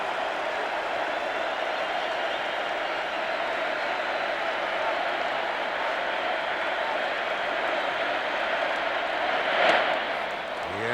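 A stadium crowd at Game 7 of the 1991 World Series gives Kirby Puckett long, loud applause, a steady wash of clapping and cheering that holds across the whole stretch with a brief swell near the end.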